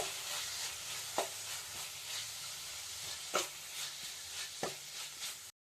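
Coconut and squid filling sizzles steadily in a pan while being stirred, with a constant frying hiss broken by a few sharp scrapes of the spoon.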